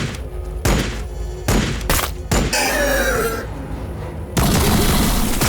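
Gunfire rings out on a sci-fi battlefield in the Warhammer 40K Battlesector strategy game. Several sharp, loud shots land at irregular intervals, then a longer rattling volley and a dense, sustained burst of fire follow, all close and with no voices.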